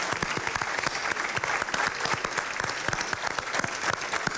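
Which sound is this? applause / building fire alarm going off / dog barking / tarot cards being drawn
applause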